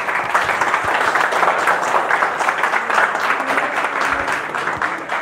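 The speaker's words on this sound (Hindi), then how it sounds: "आपकी तालियां हो जाएंगी कि कितना समझ आया आपको।" Steady, dense applause from a crowd, clapping continuously at fairly loud level throughout with no break.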